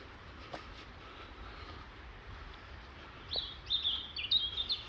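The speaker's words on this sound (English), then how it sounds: "It's just their birds constantly singing." Small birds chirp and sing in a green space beside Aigburth Road in Liverpool, faint at first and then a brighter cluster of calls near the end, over soft wind and distant background rumble.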